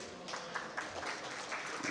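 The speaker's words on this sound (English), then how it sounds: "We can clap for him." Soft, distant applause from a modest crowd, a brief patter of clapping at low volume.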